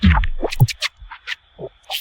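Sparse, clicky digital glitches popping in short irregular bursts with gaps of near silence between them.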